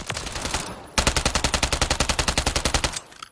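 A UMP 45 submachine gun fires in Call of Duty Modern Warfare III: a brief burst, then after a short break a long rapid stream of about twenty evenly spaced, loud, punchy shots.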